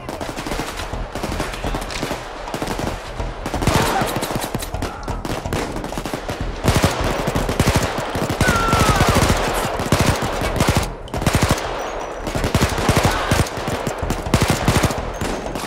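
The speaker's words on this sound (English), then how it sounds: "I am being shot." Gunfire in the video game PAYDAY 2 during a jewelry store heist, dense loud automatic bursts and repeated shots continuing for the whole stretch with brief lulls, no speech.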